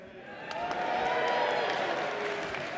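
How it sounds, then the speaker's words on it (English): An audience at the final Conservative Party leadership hustings between Boris Johnson and Jeremy Hunt cheers and applauds in a steady, full crowd roar lasting the whole moment, with voices mixed in. "Give yourselves a cheer."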